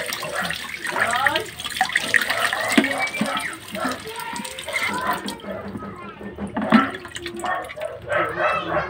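Water runs from a tap in a steady splashing, gurgling stream, with people talking over it.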